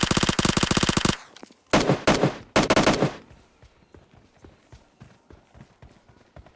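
Rapid automatic gunfire from the video game PUBG Lite bursts out loud in fast rattling volleys, stops, fires two more short bursts, then gives way to quieter distant shots and footstep-like ticks.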